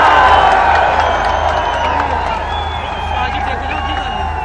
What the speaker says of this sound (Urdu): برسوں بعد قائد کے براہ راست خطاب پر کارکنوں کے نواز شریف آئی لو یو کے نعرے